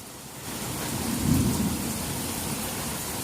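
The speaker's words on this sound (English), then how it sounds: "It's a big old storm here." A thunderstorm with heavy rain, sideways-driven downpour hissing steadily while a deep roll of thunder swells and fades in the middle, loud and close, with no one speaking.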